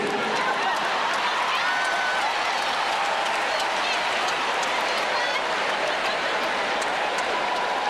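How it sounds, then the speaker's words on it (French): A crowd applauding President Henri Konan Bédié, a dense, continuous roar of clapping and cheering at full strength, steady and unbroken throughout. "On l'applaudit très fort."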